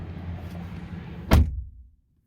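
A single solid thunk of a 2017 Ram 1500 5.7 Lone Star Edition pickup's rear door shutting over low engine-like rumble, followed by quiet.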